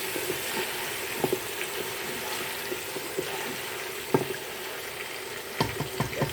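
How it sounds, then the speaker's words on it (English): Blended tomatoes frying in a pot for egusi soup, giving a steady close sizzle with soft bubbling and a few light clicks and knocks. "I'm going to add my tomatoes, the blended tomatoes. I'm going to allow this to fry"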